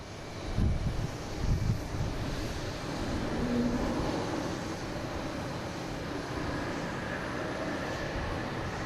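A JetBlue airliner arrives at Boston Logan, its engines giving a steady mid-level roar that swells slightly, with a couple of low thumps early on and no voices.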